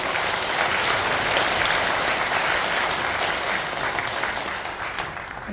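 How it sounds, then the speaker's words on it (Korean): An audience at a preview screening of a documentary film claps in sustained, dense applause that holds steady and then eases off slightly toward the end. "감사의 박수를 드립니다"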